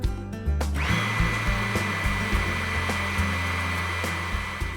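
A Huck 920D Powerig hydraulic power unit starts and runs with a steady loud motor whine and hum, close by. Faint clicks are heard over it and no one speaks.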